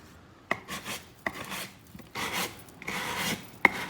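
Sandpaper rasping over hardened resin drips on a painting, several separate scraping strokes with short pauses and sharp knocks between them, close and clear.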